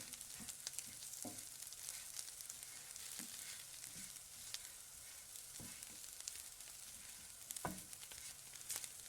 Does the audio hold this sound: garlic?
yes